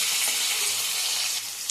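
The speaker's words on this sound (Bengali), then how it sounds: "তেলটা গরম হয়ে গেছে, ফোড়নে আমি 5 ফোড়ন আর শুকনো লঙ্কা ফোড়ন দিচ্ছি।" Panch phoron spices and dried red chillies hit hot oil with a steady, dense sizzle that fills the whole stretch, close and even, dipping slightly near the end.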